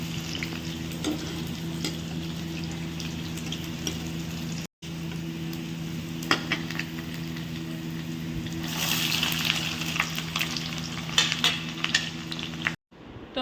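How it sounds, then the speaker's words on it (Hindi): Saag greens fry and sizzle in hot oil tempered with garlic, a steady loud crackling hiss with occasional stirring clinks from utensils against the pan, and brief cuts in the sound. "दूसरी तरफ मैंने साग छोक दिया है"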